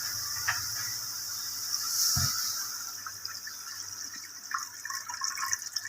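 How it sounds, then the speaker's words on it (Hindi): Water runs steadily into a cooking pot of frying pickle masala while making jeera rice, a soft continuous trickle with a faint splash midway, with no voices. "थोड़ा सा भूनने के बाद आप इसमें पानी शामिल करें।"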